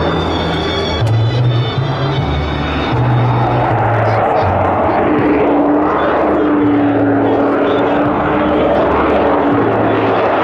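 An F-35A Lightning II at an air show demo roars with its afterburner lit as it accelerates into a near vertical climb, a loud sustained jet rumble with a shifting drone, and crowd noise faintly underneath.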